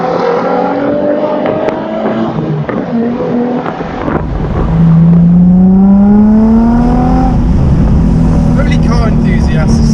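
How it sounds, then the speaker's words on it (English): A Nissan 350Z with a custom exhaust in a tunnel, driven with the roof down, its engine note climbing and droning loudly as the car accelerates, echoing off the walls, with a voice talking over it. "I can hear the exhaust a little bit better with the roof down"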